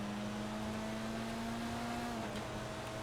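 A Karin Futo car in GTA 5 runs fast along a snowy freeway, its engine holding a steady, fairly faint droning tone throughout with no clear revving.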